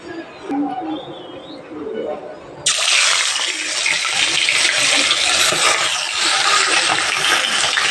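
Chital fish slices hit hot mustard oil in a pan, and a sudden loud hiss jumps into a steady crackling sizzle that carries on after a few quieter kitchen sounds and some talk.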